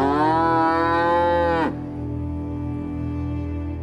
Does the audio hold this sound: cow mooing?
yes